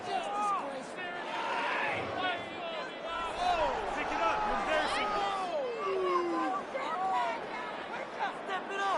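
Stadium crowd noise from the Madden 26 football video game during an AFC Championship simulation between the New England Patriots and Denver Broncos, a steady roar of cheering and chatter running throughout with a commentator talking over it.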